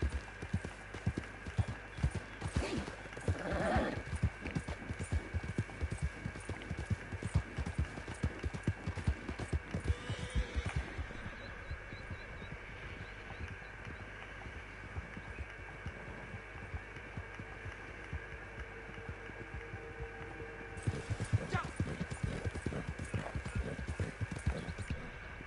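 Horse hooves clip-clopping steadily through a long ride at a hunting-sport outing in Austria, a close, continuous rhythmic thudding over constant hum and background noise, with no talking.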